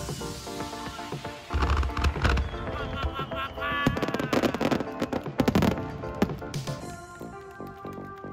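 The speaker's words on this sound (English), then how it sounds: "As the fireworks come to a close," Summer festival fireworks burst over Ito, Shizuoka in dense, overlapping booms and crackling pops. The explosions come loud and near in a rapid, irregular barrage that builds toward a finale.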